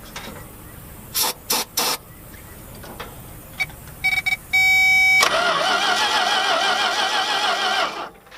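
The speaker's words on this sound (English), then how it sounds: "I'm going to make it run off of the starting fluid just until it can pick up some gas from the fuel pump" Engine of a Dodge Ram truck, unstarted for 13 years, cranking on starting fluid: short bursts of spraying and clicks, then from five seconds a loud steady whirring crank that runs near and unbroken until it cuts off at the end.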